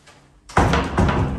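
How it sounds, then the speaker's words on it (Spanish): A front door of a rental house is pushed shut with a sharp, loud thud and a brief rattle, followed by a second knock-like impact as it settles into the frame. "Cerramos la puerta"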